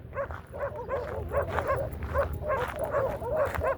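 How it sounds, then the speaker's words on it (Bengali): A pack of feral dogs living in a wooded desert garden in Saudi Arabia yaps and barks in a rapid, overlapping chorus, several animals calling at once, fairly close and continuous. "ওই দেখেন ওই যে হায়না জাতীয় কুকুর বের হয়ে আসছে।"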